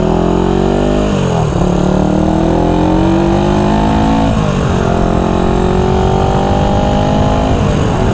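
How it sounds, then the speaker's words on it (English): A 1974 Honda CB360 motorcycle ridden hard, its engine loud and close, winding up through the gears with a few quick shifts, steady wind rush beneath. "Let's give her the beans."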